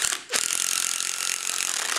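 A power driver whines steadily and close as Tapcon concrete screws are driven into pre-drilled holes in a concrete footing, holding a continuous high buzz after a brief pause at the start.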